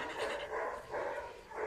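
Young male puppy panting in quick repeated breaths with soft yips and barks, close and faint, with no voices.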